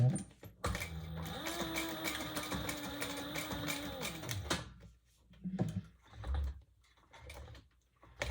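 A sewing machine runs in one steady burst of stitching on a bag, with a few short start-stop whirs and handling noises after it.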